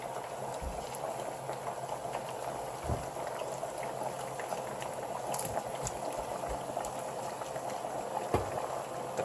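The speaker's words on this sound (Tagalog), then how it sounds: "Tapos, isimmer lang po natin to for 5 minutes." Ginataang tilapia simmering in coconut milk in a covered pot, a quiet continuous bubbling boil with occasional soft pops and burbles, steady and close.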